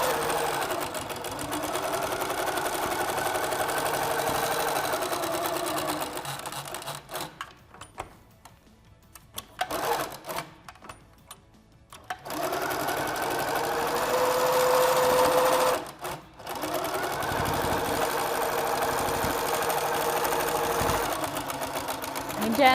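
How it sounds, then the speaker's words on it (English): A Little Rebel sewing machine stitches quilting lines with a rapid, steady mechanical whir. The whir halts in two short pauses before it resumes at a fairly close, moderate level. "All of your quilting just glides right through the machine."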